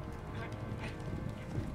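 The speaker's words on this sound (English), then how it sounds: "It's the four horses of apocalypse." Horses gallop in a Game of Thrones video game, a steady rapid clip-clop of hooves beneath faint talk and background ambience.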